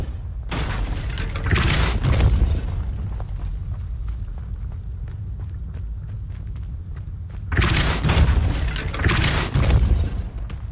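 Depulso force spell cast repeatedly in Hogwarts Legacy, booming thuds in two loud bursts near the start and end, with a softer rumbling stretch between.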